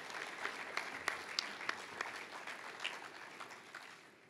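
Applause at a chamber of commerce fall dinner, a smaller crowd clapping fairly faintly with scattered distinct claps over a soft patter, steady then tapering slightly.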